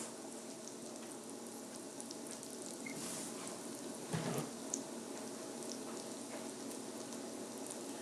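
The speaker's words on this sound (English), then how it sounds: "You like the sound of the sizzle?" Steady, faint crackling sizzle of fries frying in hot oil, continuous throughout with a brief louder burst midway.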